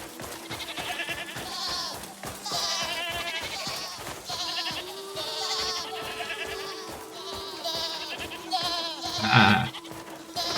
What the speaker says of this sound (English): Indeed, goats.